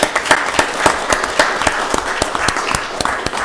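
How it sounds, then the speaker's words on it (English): Applause at a county board of commissioners work session, a room of people clapping with clear individual sharp claps over a steady bed of applause, fairly close and sustained. "Let's give them a round of applause."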